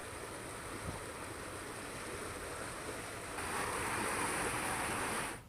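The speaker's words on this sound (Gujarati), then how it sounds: "ધસમસતો પ્રવાહ જે છે એ ગામમાંથી પસાર થતો જોઈ શકાય છે" Rushing floodwater pours through a village after heavy rain, a continuous broadband roar of moving water that swells slightly louder toward the end, with no voices.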